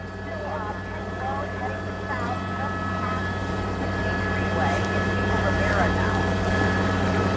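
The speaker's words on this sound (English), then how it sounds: "there are so many helicopters above him" Police helicopters hovering over a high-speed Los Angeles car chase after a robbery suspect, a steady rotor drone with engine hum throughout, while a news commentator talks over it.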